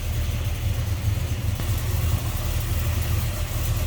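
A 1969 Chevrolet Chevelle convertible with a 350 Chevy small block V8 and headers idles close by, making a steady low rumble with an even, slightly lumpy throb throughout.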